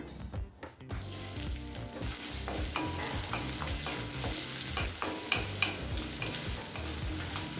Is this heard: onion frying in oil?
yes